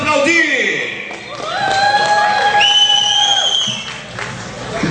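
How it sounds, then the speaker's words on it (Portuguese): A festival crowd cheers and applauds at an outdoor forró music event, with whistles and shouts rising over the clapping and loud voices mixed throughout. "Com vocês, aplausos vocês"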